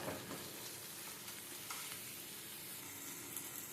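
Ginger paste sizzles and spatters steadily in a hot pan while being stirred, a dense constant crackle with occasional scraping bursts, close and fairly quiet with no talking.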